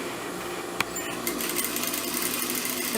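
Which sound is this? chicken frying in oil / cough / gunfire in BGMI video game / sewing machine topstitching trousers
sewing machine topstitching trousers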